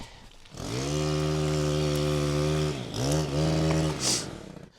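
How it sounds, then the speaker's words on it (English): A chainsaw cuts a tree branch during tight-quarters tree removal, its engine holding a steady loud buzzing whine, dipping briefly, then revving again before it cuts off. "There's something very uncomfortable about feeling the vibrations of a chainsaw in the tree that you're in."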